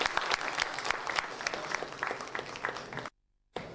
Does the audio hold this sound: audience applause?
yes